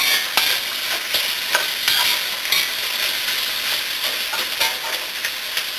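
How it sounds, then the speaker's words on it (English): Vegetables with onions sizzle and crackle steadily in a hot pan while stir frying, with occasional sharp pops and the clatter of stirring throughout. "we're just stir frying that"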